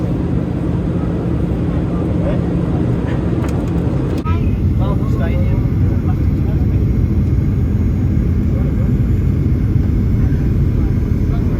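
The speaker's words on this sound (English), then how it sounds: "we have started our approach onto Melbourne Tullamarine International Airport" Steady, loud roar of a Boeing 737-800 airliner cabin on approach to landing at Melbourne Tullamarine, a continuous broadband engine and airflow rumble throughout with a brief shift partway through.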